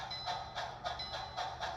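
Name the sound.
Bachmann HO scale model steam locomotive train running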